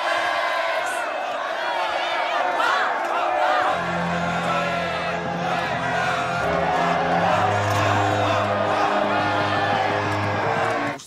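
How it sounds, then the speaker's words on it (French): A crowd of people acclaiming their chief, cheering and shouting together in a continuous loud roar, with deep music swelling in beneath the voices partway through. "Par les acclamations de mon peuple."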